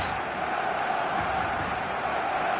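A packed stadium crowd in the eFootball video game roars steadily on match day, a dense, loud wall of cheering and chanting that holds without pause.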